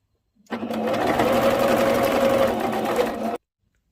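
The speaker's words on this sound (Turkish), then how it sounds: "O yüzden sadece dikiş kısmını yapıyorum." A sewing machine stitches the seam of an elastic skirt whose fabric edges were already overlocked. It runs as one steady, close, continuous burst of about three seconds, with no other sounds.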